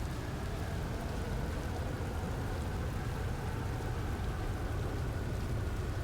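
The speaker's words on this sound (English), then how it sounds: "There is a storm that is approaching." Steady rain from an approaching storm in the space exploration game Outer Wilds, a constant dense patter with low rumbling underneath, loud and unbroken throughout with no voices.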